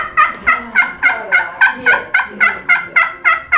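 A hand-operated turkey call imitates a gobble: about eleven quick, evenly spaced rasping yelps repeat in a steady rhythm, close and loud, with no talking.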